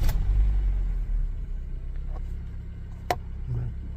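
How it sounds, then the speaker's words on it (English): A 2007 Honda Civic with misfires, hesitation and little power, its engine running with a steady low rumble close by, a few sharp clicks and a brief knock near the middle. "let me turn the car on"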